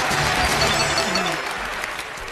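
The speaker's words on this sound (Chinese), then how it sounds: "我们掌声送给今天 最丑的" Audience applause in a dating show studio, a burst of many clapping hands that starts full and gradually thins out, with a little background voice underneath.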